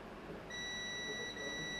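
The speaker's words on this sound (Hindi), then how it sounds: "तो ये बीप दे रहा है" A multimeter on continuity mode beeps in a steady, thin tone while its probes test a current-sensing resistor on a laptop motherboard, faint over a hissy background with no talking.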